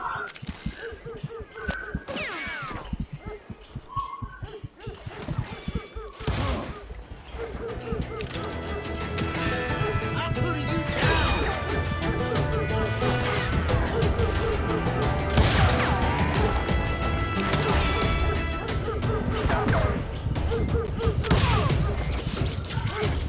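Gunfire from Call of Juarez Gunslinger, a Wild West shooter, with repeated sharp shots and crashes over a dense game soundscape, growing louder and busier through the middle and later part.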